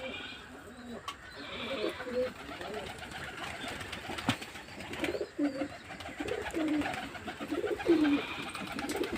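Giribaj pigeons, adults and new chicks, in a loft give soft, scattered coos amid a low, busy background, with occasional louder knocks and faint voices nearby.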